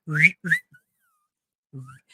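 Loud human whistling in a few short sharp chirps, two quick rising blasts then a fainter pair after a pause, close and alone with no talk.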